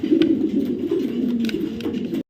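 A blue grizzle hen racing pigeon coos close by, a soft, steady rolling hum that ends abruptly.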